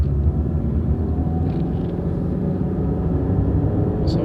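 Inside a 2017 Toyota RAV4 crossover on the move, a low steady road and engine rumble fills the cabin, constant and close, with no talking.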